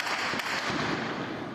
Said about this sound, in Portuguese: mas os disparos continuaram